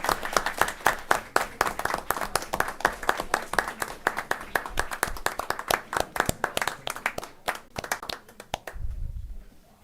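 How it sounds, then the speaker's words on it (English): Board of education meeting attendees applaud softball and baseball players from North Carolina, with dense, sharp individual claps from a nearby crowd running for about nine seconds before stopping abruptly into a low rumble. "Let's give them a round of applause."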